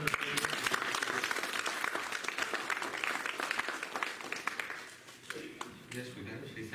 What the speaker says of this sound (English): just give a round of applause to our praise band and Dooley